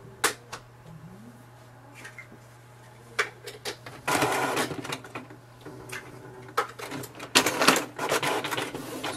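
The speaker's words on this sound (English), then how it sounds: "So here we can see, so it's doing the printing." A Canon TS5050 all-in-one printer prints a page with irregular mechanical clicks, whirs and short rattling feed bursts over a low steady hum, close and fairly quiet, growing busier toward the end.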